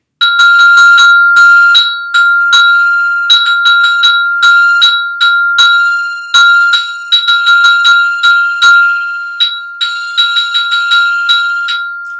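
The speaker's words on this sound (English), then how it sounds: "the screw is like making contact with the bell, and that's what the rattling sound you heard there." A student bell kit in a sixth-grade percussion class is struck again and again with mallets, and a loose screw touching the bell adds a rattle. Each bright metallic note rings out clear and loud, with no talking.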